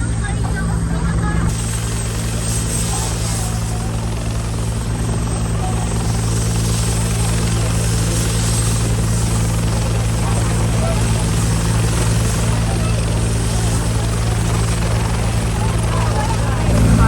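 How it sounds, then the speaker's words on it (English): A helicopter's rotor drones loudly and continuously over Siargao, Philippines, after Super Typhoon Odette, a steady thudding hum with faint voices underneath. "And there's a helicopter"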